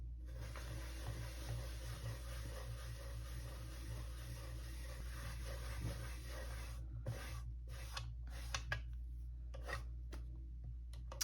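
Pencil guide marks being rubbed off a dot mandala painting with circular motions, a soft continuous scratchy rubbing that breaks into short separate strokes near the end, quiet and close.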